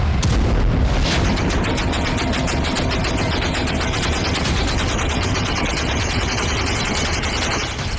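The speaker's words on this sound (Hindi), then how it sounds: "जरा सा शक होने पर बगैर चेतावनी यहां दर्जनों गोलियां बरस रही हैं" Dense, continuous gunfire and booming artillery blasts from the Syrian civil war crowd together as loud, chaotic bursts with a couple of heavier explosions early on, all without any speech.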